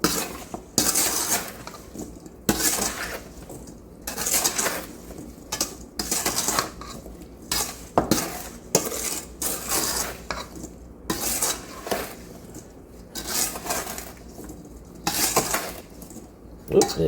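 A spoon stirs berries coated with sugar in a bowl, scraping and clinking against the sides in repeated uneven bursts, close and alone.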